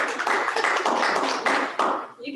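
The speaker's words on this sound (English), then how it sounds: "You get a round of applause." Applause from the audience at a community family alliance meeting, a short burst of many hands clapping close and loud, thinning out and tapering off toward the end.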